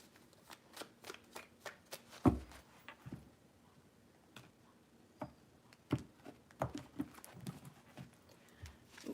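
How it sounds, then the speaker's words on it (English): Tarot cards are shuffled three times by hand, giving soft, close riffling bursts and taps spread across a quiet room with no talk. "Three shuffles."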